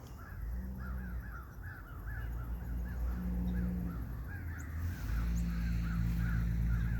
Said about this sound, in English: a bunch of crows.